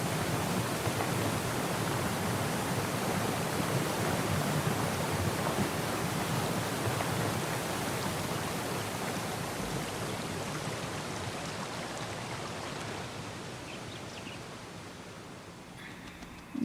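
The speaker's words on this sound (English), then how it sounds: "I love waterfalls, but they are really loud." A loud waterfall in a mountain setting in Syberia: The World Before roars as a steady, dense wash of broadband rushing water, easing slightly toward the end, with no voices over it.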